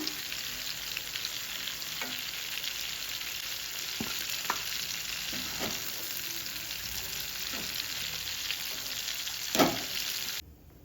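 Chicken pieces deep-frying in hot oil, a steady dense sizzle running throughout with a few sharp pops and crackles, close and fairly loud, cutting off abruptly near the end.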